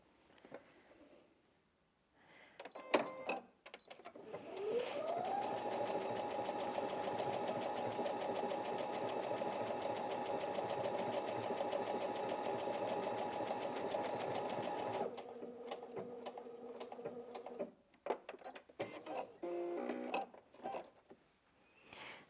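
A Brother Innov-is NV1800Q computerized sewing machine stitches a mirrored heart pattern with a steady, whirring mechanical hum that runs unbroken for about ten seconds, then shifts briefly to a slower pace before stopping amid light handling clicks.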